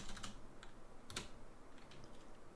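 Typing a command on a computer keyboard, with a short burst of quiet, close key clicks over faint background hiss and no talk.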